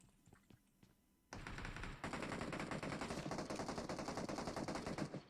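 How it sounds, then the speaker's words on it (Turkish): Rapid automatic gunfire in the mobile battle-royale game PUBG Mobile is aimed at a bot: a few sparse shots first, then a loud, sustained burst of rattling fire that continues to the end. "Ola ne kadar çok mermi sıktın be bu bota."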